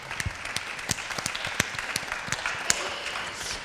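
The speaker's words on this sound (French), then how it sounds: "je crois que déjà, vous méritez un applaudissement rien que pour ça" An audience at a panel discussion on European defence applauds, with scattered individual claps ringing out over a steady bed of clapping, fairly close and without talk.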